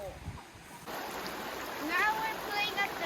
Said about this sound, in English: Now we're playing at the river in the Big Sur next to our campsite